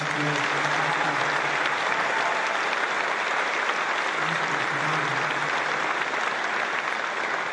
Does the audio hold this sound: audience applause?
yes